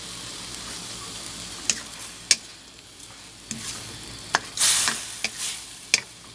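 Enoki mushrooms with shrimp and pork are stir-fried in a pan. A soft continuous sizzle runs underneath, broken by sharp scrapes and clacks of the spatula at irregular moments and one longer, louder stirring swipe.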